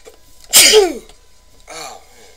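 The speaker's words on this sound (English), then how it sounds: "Sorry about that, guys. I had to sneeze." A single sharp sneeze close to the mic, followed a moment later by a short, softer breathy sound.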